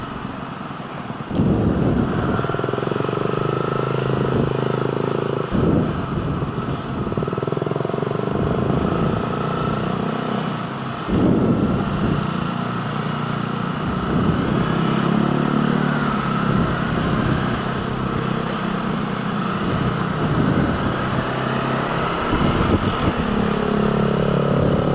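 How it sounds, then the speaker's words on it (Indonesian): A motorcycle engine drones loudly throughout a ride, with repeated surges of revving and acceleration over steady wind buffeting, no talking heard. "Ini berisik banget nih motor nih."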